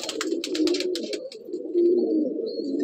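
A Madrasi pigeon from an old bloodline coos in a loft, a low, rolling, repeated coo heard close and clear, with soft rustling and a few faint chirps above it.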